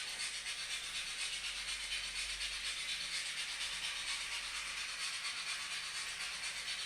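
A model steam locomotive running on a plain DC controller gives a steady, faint hissing chuff with a low rumble underneath, continuous and unbroken, no voices.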